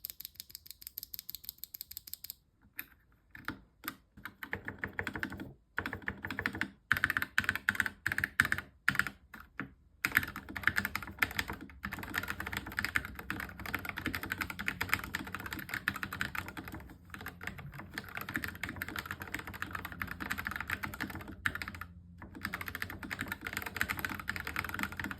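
Typing on a custom mechanical keyboard with RGB lighting: fairly quiet, rapid irregular bursts of key clacks with brief pauses between runs, heard alone without talk.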